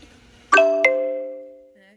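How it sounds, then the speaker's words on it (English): A phone notification chime sounds when someone publishes on a web page: two quick bright tones strike in succession, then ring out and fade over about a second, loud and close. "my phone is notifying me that somebody published on the page"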